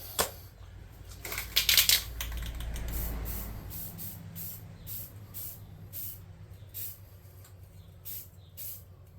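Primer red base coat sprayed in short hissing bursts from a can onto a futuristic trap door junkpile tabletop model, fairly close, with a louder burst early on and quieter intermittent puffs afterward.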